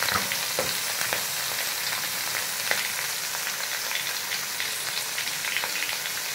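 Pointed gourd and potato fry with cumin in a hot pan, a loud, steady crackling sizzle with scattered small pops throughout.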